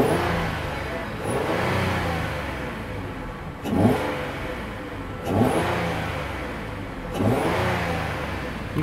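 A 2015 Ford Taurus SEL engine revs in three distinct bursts, each rising sharply then falling back toward idle, close by and with no talking.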